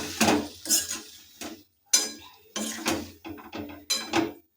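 A metal spoon stirs a chikni shak chechki of greens, potato and aubergine in a cooking pot, scraping and clinking in short bursts with brief pauses between strokes.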